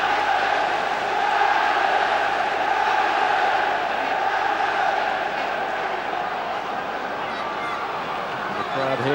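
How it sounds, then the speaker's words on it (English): Fans in the stands at a Sheffield United football match in the 1997-98 season raise a sustained roar and chant, a broad, distant-sounding crowd swell that rises slightly midway and carries on steadily. "The crowd here warmed up to try and provide the inspiration for the breakthrough in this game."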